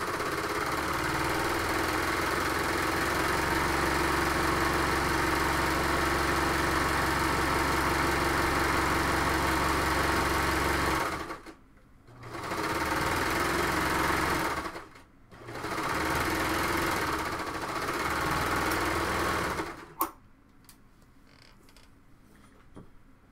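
A sewing machine stitches a cowl neck tank in long, steady whirring runs, close and clear, broken by two brief pauses before the motor stops near the end, leaving quiet room sound.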